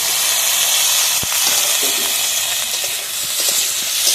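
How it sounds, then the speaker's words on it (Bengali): Chopped tomatoes fry with onion, ginger and garlic in a pan for ghugni, giving a close, continuous loud hiss and sizzle with a few small clicks and no talk. "একসাথে ভালোভাবে টমেটোটা ভেজে নেবো পেঁয়াজের দিকে, আদা রসুন পেঁয়াজের দিকে।"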